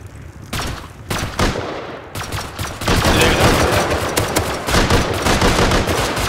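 Gunfire in the survival game Rust during a raid: a few separate shots, then sustained rapid automatic fire and overlapping bursts, loud and dense throughout.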